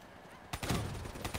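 Gunfire from a weapon in the Call of Duty Black Ops 3 campaign erupts suddenly after a quiet start, with a loud burst and rapid follow-up shots continuing to the end.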